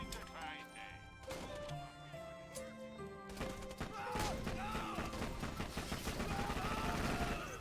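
Pistol gunfire in the video game Borderlands 2: rapid, repeated shots and impact bursts over game music and effects, rather faint overall and growing denser and busier in the second half.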